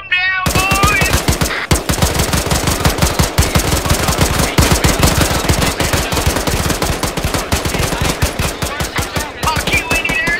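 Sustained machine gun fire aimed at enemy aircraft in the video game Arma 3, a loud, rapid, unbroken stream of gunshots close by that keeps going for around ten seconds.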